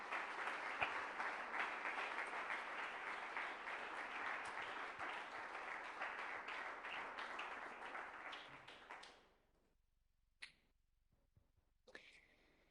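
A church congregation gives the Lord a round of applause during a worship talk, loud, dense clapping that holds steady for about nine seconds, then fades away and leaves a few faint isolated claps.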